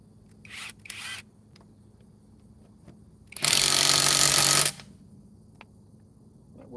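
A battery-powered tool run like an impact wrench gives a loud, steady burst of about a second near the middle, with shorter rattling bursts earlier and quiet workshop noise between.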